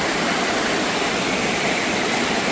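Creek water rushing around dry-stacked stones, a loud, dense, unbroken hiss of flowing water close to the listener with no voices.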